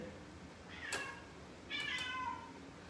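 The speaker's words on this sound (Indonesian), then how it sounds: "ada kucing." Two cat meows sound close and clear, the first short and the second longer and drawn out, against a low steady background with no talking.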